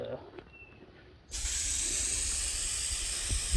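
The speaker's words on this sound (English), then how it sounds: "I am just spray painting the boards." After a quiet moment, a steady spray can hiss starts abruptly and keeps going, close and continuous, as paint is sprayed onto boat trailer boards.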